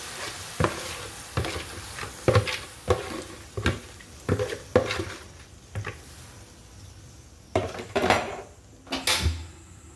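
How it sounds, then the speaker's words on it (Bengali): Spices sautéing for rohu fish curry in leftover fish-frying oil, with repeated sharp scrapes and stirs of a spatula against the pan over a steady low sizzle, close and fairly loud. "মশলাটা আমি ভালো করে কষিয়ে নিব।"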